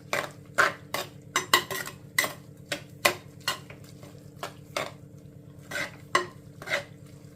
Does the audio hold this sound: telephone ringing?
no